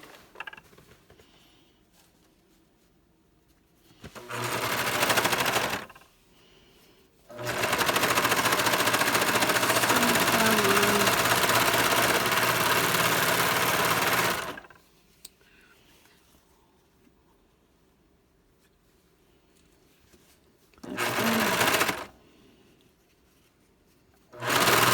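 A serger overlock sewing machine stitching fabric, heard in several loud close runs of steady mechanical whirring, one long stretch of about seven seconds and shorter bursts, with quiet pauses between them.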